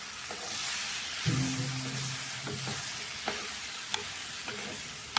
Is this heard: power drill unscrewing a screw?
no